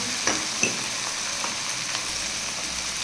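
Vegetables frying in a pan for a mixed chow mein dish, a steady loud sizzle with a few clinks of a spoon stirring, close and without voices.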